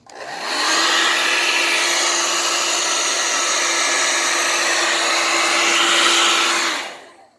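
A hair dryer blows air into the rear vents of an unplugged Sony flat-screen TV, a loud, steady whoosh with a constant motor whine that runs unbroken for about six seconds before cutting off.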